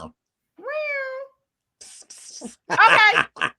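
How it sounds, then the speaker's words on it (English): A house cat gives a single clear, drawn-out meow right after waking, close by, followed by a pause and then a person talking. "Made my cat wake up with all this anger."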